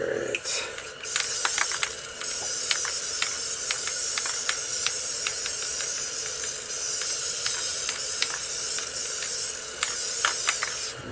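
A spray paint can lays down a light mist of gray in repeated short hissing bursts, with several quick taps and clicks between sprays, close and fairly loud.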